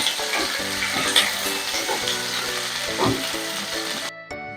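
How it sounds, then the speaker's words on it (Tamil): Ivy gourd sizzles and crackles steadily in a hot pan, close up, with occasional scraping clicks of stirring. "இப்போ கோவக்காய் நல்லா வதங்கட்டும்."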